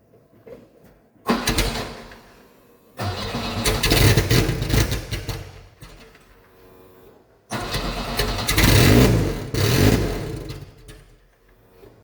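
A car with its exhaust removed cranks and fires up loudly, then revs in raw, unmuffled bursts, settling briefly before a second start and another round of harsh, close revving.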